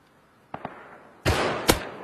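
Gunfire in a first-person shooter video game: two quick, light shots, then a louder, sustained burst of firing ending in a sharp crack.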